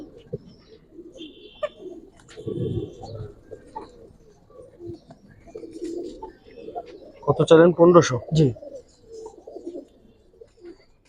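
Pigeons cooing nearby, soft repeated coos with a louder rolling burst partway through, under someone talking in Bengali.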